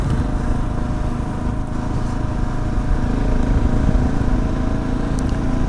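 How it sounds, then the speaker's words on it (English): A 2017 Husqvarna 701 motorcycle rolls slowly over gravel, its engine a steady low rumble with constant road and wind noise, close and continuous, no voices. "this is the 2017 Husqvarna 701"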